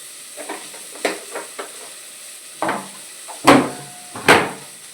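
Chicken frying in oil in a kadai gives a quiet sizzle broken by several spatula scrapes and stirs, the last few loud and close.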